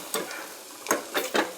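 Dry chickpea usal frying in a pan, stirred in three quick scraping strokes, each a short, close, rustling burst over a faint sizzle.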